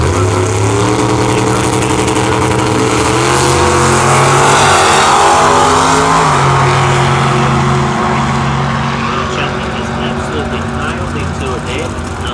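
Nostalgia drag racing cars roar down the strip, with loud engine noise rising and then fading into the distance while an announcer talks over it.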